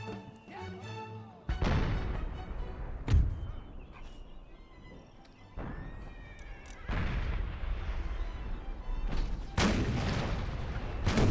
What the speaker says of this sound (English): I think the howitzers are firing at them, aren't they?